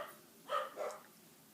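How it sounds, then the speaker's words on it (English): Dogs barking in the background, two short muffled barks in quick succession, faint and distant. "I swear those dogs need to stop barking."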